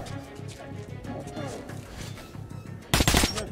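Game gunfire in Metro 2033 Redux, a tight run of shots bursting loud near the end over a busy backdrop of in-game sound and talk.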